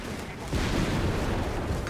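Explosions and gunfire in Company of Heroes 3 during a battle with mines going off, a dense rumbling blast swelling midway and sustained heavy booming with crackling, no talk.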